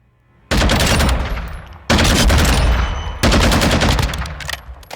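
Full-auto bursts from a rifle with a 20-round magazine on a Call of Duty Modern Warfare II firing range: three loud, close, sustained rapid-fire strings, each stopping abruptly before the next.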